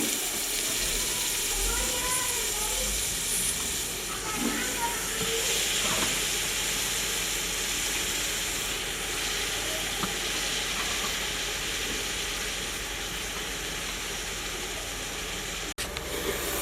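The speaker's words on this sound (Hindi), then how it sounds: "मसालों को थोड़ी देर भून लेने के बाद अब पालक शामिल कर लेंगे।" Spinach dropped onto fried spices in a hot pan, giving a loud, continuous sizzling hiss that holds steady throughout, close up, with faint clatter of the pan.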